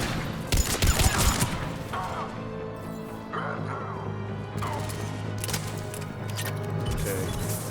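Sci-fi gunfire and crashing impacts erupt in a firefight in Mass Effect Legendary Edition, a loud burst of rapid shots early on, then scattered blasts and clatter over steady background hum.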